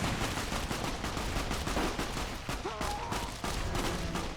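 Gunfire in Fallout: New Vegas, a steady run of repeated shots popping in quick succession with brief pauses, loud and close over game ambience.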